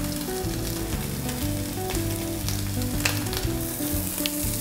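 Crepe sizzling and frying steadily in hot oil in a pan, a loud continuous crackle with no talk, alongside the burger-and-honeyed-onion crepe filling being prepared.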